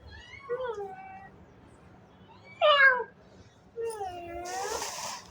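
A white cat meows close by in three drawn-out calls with pauses between them, the last one longest, against a quiet indoor background.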